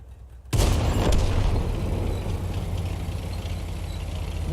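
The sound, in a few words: Hetzer tank derp gun firing in World of Tanks video game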